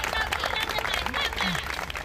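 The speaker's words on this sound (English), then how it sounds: "Cheering crowds line the streets of Madrid as Pope Leo XIV waves to them from the Popemobile." Crowds lining the streets of Madrid cheer Pope Leo XIV as he waves from the Popemobile, a steady wash of applause and shouting that fills the short stretch, with voices mixed into the roar.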